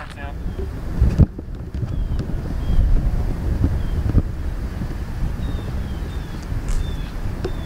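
Wind buffets the microphone steadily on an open golf course, a continuous low rumble with gusts, while voices talk over it.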